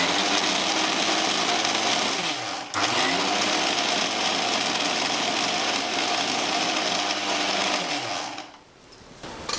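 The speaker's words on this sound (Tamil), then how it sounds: "இப்போ இந்த மிக்சியில் போட்டு கிறிஸ்பாக, நைஸாக இல்லை, கிறிஸ்பாக கொஞ்சம் தரியாக கிரைண்ட் பண்ணி வச்சு" An electric mixer grinder coarsely grinds pirandai (adder's creeper) rasam powder, a loud steady motor whine with a brief dip near the start, then winding down and stopping near the end.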